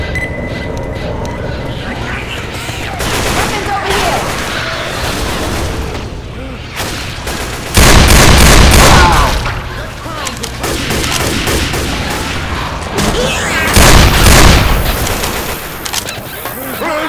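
A grenade explosion and rapid gunfire in the video game Left 4 Dead 2, with dense loud bursts of shooting and two heavy booms, close and harsh, with voices calling out in between.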